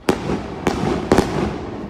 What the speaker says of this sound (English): Illegal fireworks could be seen popping off around the Bay Area.